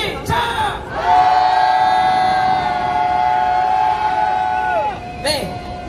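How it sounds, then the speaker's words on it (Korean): A crowd at a rally welcoming released university students lets out a loud, sustained collective shout lasting about four seconds, many voices blending into one held roar before it drops off into brief scattered noises. "함성 3초입니다. 함성 시작!"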